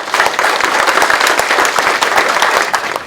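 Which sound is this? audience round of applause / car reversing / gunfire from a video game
audience round of applause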